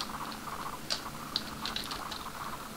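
Light typing on a computer keyboard while coding JavaScript, a few scattered soft key clicks with sharper taps, faint and close over a low background hiss.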